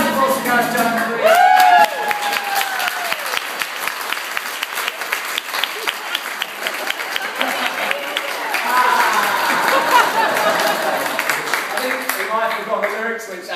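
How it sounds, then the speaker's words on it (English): Wedding guests applauding and cheering for a best man, a crowd of clapping hands with whoops and raised voices over it, steady throughout with a swell of cheering near the end. "A round of applause to Gareth Jones, please."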